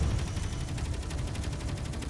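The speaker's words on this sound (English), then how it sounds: "If we just focus on the assault cannons a sec, we see how much damage these things cause." Heavy assault cannons on a Space Engineers starfighter pound away in a steady, rapid stream of loud, booming shots, the rhythm even and continuous from start to finish with no voices over it.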